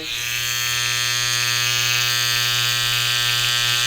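Inexpensive electric hair clippers trimming hair around the ear, a steady close buzzing hum with a bright whine that holds constant throughout without talk.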